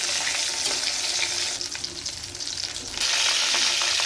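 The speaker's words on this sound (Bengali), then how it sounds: "এদিকে আমার মাছটাও প্রায় ভাজা হয়ে এসেছে" Fish frying in hot oil in a pan, nearly done; a loud steady sizzle that dips briefly in the middle and then swells back up close by, with no talking.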